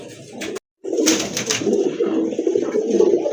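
Pigeons at a pigeon sale cooing up close, a steady run of low, throaty coos that break off for a moment and then carry on, loud and continuous.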